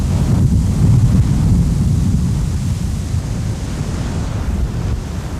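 Rough seas in the Drake Passage on the way to Antarctica: heavy surf and a continuous roar of wind on the microphone, loud and steady throughout with no voices.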